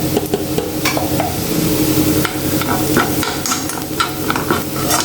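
Spinach with crushed red chilli sautés in a pan for Kerala-style spinach thoran, giving a loud, steady sizzle under constant stirring and scraping of a spoon against the pan, close up and without speech.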